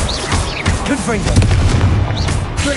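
Explosive Confringo spell blasts from Hogwarts Legacy boom repeatedly over a couple of seconds, loud and close with rumbling low end, mixed with other game combat sounds and faint voices.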